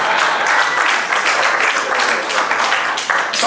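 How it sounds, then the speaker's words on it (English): Loud, dense audience applause at a broker's kick-off event in Toronto, a continuous close wash of many hands clapping with no pauses. "how a big round of applause for Armand."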